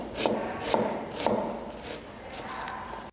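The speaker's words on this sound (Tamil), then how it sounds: "நைஃபை கொஞ்சம் கிராஸாக வச்சு கட் பண்ண ஸ்டார்ட் பண்ணணும்." A knife slices across food in a kitchen, with a few soft, evenly spaced strokes that scrape and rub against the board, moderately close and steady, with no talking.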